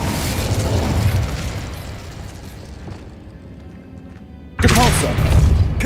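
An Incendio spell erupts in Hogwarts Legacy with a dense, loud fiery rush that tails off into quiet, then a second sudden blast of flame bursts in near the end, close and strong.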